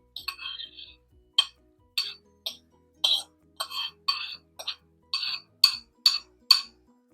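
Metal spoon clinking against the inside of a pot while stirring elderberry syrup ingredients, about a dozen sharp, bright taps in an uneven rhythm, close and fairly loud with quiet gaps between.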